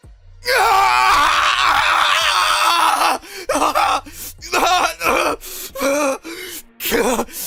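Goku screams in pain as his arm disintegrates in his god killer form: loud, strained voiced cries and groans, first one long wail, then a run of short gasping bursts broken by brief silences.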